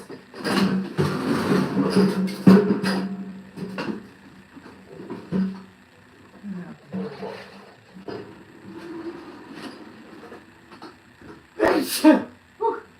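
A single sharp sneeze bursts out near the end, after a stretch of quiet talk and faint background noise.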